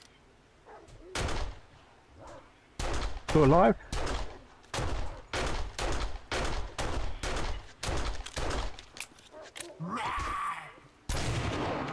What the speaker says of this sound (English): that took a lot of ammo, and there's a lot of shooting